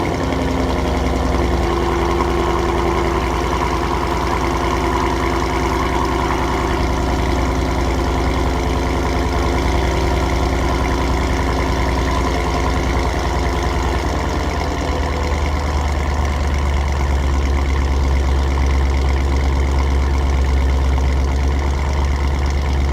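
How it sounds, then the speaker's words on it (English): A Ford Mustang GT 5.0 with a Corsa Xtreme catback exhaust idles steadily after a cold start in warm weather, a loud, deep, continuous rumble that stays close and unbroken throughout, with no talking. "here's a cold start in like 80-degree weather"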